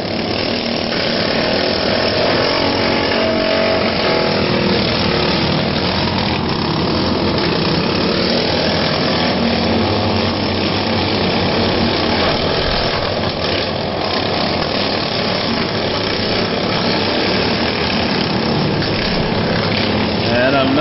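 Racing lawnmowers, among them a modified John Deere with a roll bar, roar steadily and loudly throughout at a 2011 Bash for Cash event, with an announcer talking over the engines.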